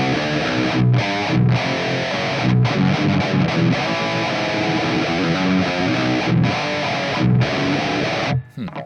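Electric guitar played through the LABOGA Mr. Hector amp plugin on the Kristian Kohle preset, a loud, heavily distorted riff with rhythmic chugging and brief gaps, continuous and alone until it cuts off near the end.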